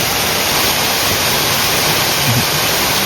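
Waterfall on the Agasthiyamalai mountain trail, a steady, dense roar of falling water filling the air, loud and constant with no pauses or talk.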